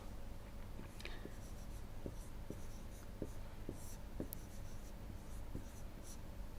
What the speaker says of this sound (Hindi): तो क्या क्या दिया है आइए लिख लेते हैं।